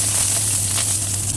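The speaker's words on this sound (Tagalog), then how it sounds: "Main pan, padra-dry lang natin at pag-aantay ng oil. Sot natin ang onions." Onions sautéing in hot oil in a pan, a continuous close sizzling hiss with light crackle and no talk.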